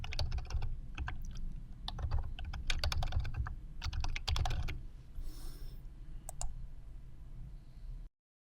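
Name and password being typed on a computer keyboard during a Windows 10 setup, heard as bursts of rapid, close key clicks with short pauses between them and no talking.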